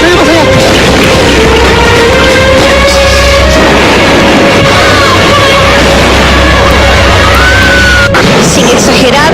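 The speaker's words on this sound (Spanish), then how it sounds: "podemos decir que se escucharon más de un centenar de explosiones" Loud, continuous booming roar of explosions with heavy low rumble and crashing bursts, voices shouting underneath throughout.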